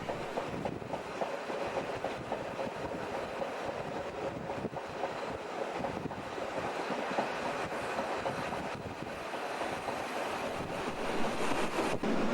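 A steam special train on the Bergen Railway runs into the 10.5-kilometre Finse tunnel, giving a steady, dense roar of wheels and rail noise that holds throughout without pause, with no voices.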